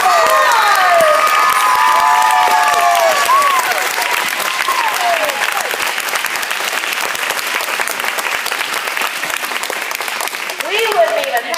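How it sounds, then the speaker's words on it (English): A school pep rally crowd applauds loudly and cheers, with whoops and shouts rising over dense, sustained clapping that gradually thins out. "Let's give her a big round of applause."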